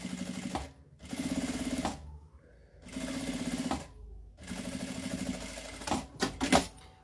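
Sewing machine stitching a small hand clutch bag in several short, close bursts of rapid stitching separated by brief pauses, ending with a few clicks and fabric handling.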